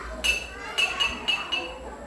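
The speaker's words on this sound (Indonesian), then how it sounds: "Ketukan sendok ke botol." A spoon strikes a glass bottle five times in an uneven rhythm, each tap a bright, ringing clink that lingers briefly, close and clear in a classroom demonstration.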